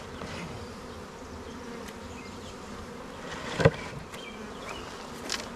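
A swarm of honeybees moved from a swarm box to a permanent hive buzzes in a continuous close drone, with a brief knock of equipment partway through.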